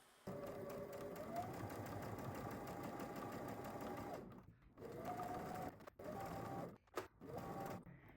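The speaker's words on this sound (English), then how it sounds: "now we're gonna head to the sewing machine and we're gonna stitch" A sewing machine runs in steady, buzzing bursts, stitching a zipper pouch continuously, then stopping and restarting several times with brief pauses between runs.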